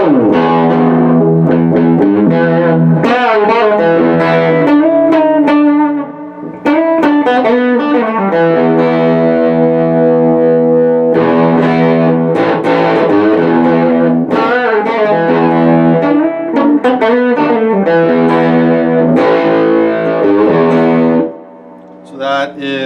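A 1996 Rickenbacker 381 electric guitar played through heavy distortion on the bridge pickup with the tone switch down, loud sustained chords and riffs ringing continuously with a brief pause midway.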